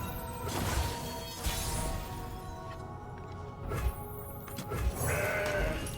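A goat bleats in the Legends of Runeterra card game, one wavering cry over busy game effects and a shattering burst, with further game sound effects around it.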